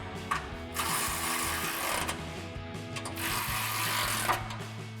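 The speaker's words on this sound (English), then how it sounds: "I'm gonna grab our ratchet and 13mm socket and tighten those down" A ratchet with a 13mm socket tightens locking nuts on a new exhaust hanger during a 2021-2024 Ford Bronco cat-back exhaust install, giving two close, loud runs of rapid metallic clicking with a short pause between them.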